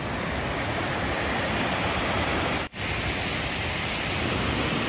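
A clear stream flows nearby as a steady, full rushing wash of water, loud and unbroken except for a momentary cut midway, with no voices.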